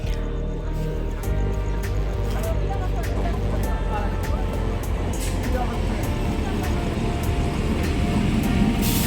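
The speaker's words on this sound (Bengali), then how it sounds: "আর অলরেডি কিন্তু আমাদের ট্রেন ঢুকেই গেছে" A packed morning train pulls into a crowded station on the way to Sealdah, where a wholesale market draws crowds. A steady low rumble runs throughout, with a busy murmur of voices over it.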